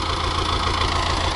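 A tractor used for summer hay mowing idles with a steady, close mechanical rumble and faint rhythmic knocking, alone and unchanging.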